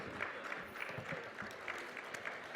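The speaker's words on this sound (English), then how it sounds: "A big round of applause" Audience at a CA students' national conference applauding, a dense, steady burst of many hands clapping that fills the hall throughout.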